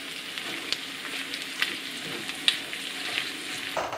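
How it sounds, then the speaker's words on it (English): Minced beef for a British-style chilli con carne sizzles steadily in a pan as a utensil breaks it up and stirs it, making a few sharp scraping knocks over the continuous close frying hiss. "So keep on breaking it up and stirring it until you can't see any more red bits."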